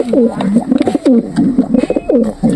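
Lakka pigeons coo close by in repeated throaty, rolling calls, several bursts in quick succession with short gaps, loud and unaccompanied by talk.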